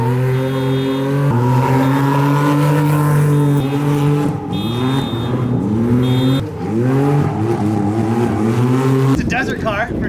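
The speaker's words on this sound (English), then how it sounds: "Took out the Can-Am for a little spin." A Can-Am UTV engine revs repeatedly while driving, loud and close, with rising and falling pitch as it accelerates through gears, ending in a rougher burst.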